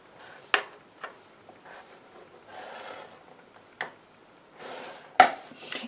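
Paper being scored at one inch for a junk journal pocket: short scraping rubs and a few sharp taps on a tabletop, close and quiet, with no talking.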